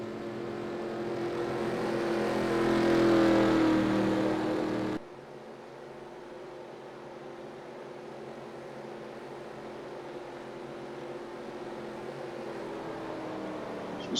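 Race cars at a Richmond 2022 race circle behind the pace car, their engine drone building and fading as a pack passes before dropping to a softer, distant, steady hum.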